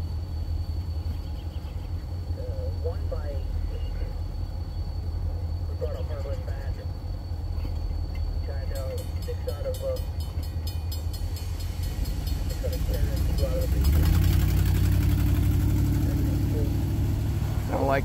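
A Wheeling & Lake Erie diesel locomotive, number 7010, in need of muffler work, rumbles with a deep, steady engine drone up close. The sound swells noticeably louder and harsher partway through as it works harder.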